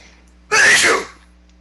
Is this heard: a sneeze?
yes